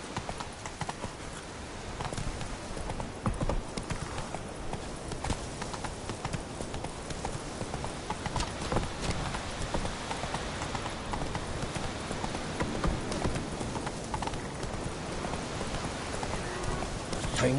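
Roach, the horse in The Witcher 3 video game, gallops with continuous rhythmic hoofbeats at a moderate, fairly quiet level over ambient game sound, and a little speech passes over it.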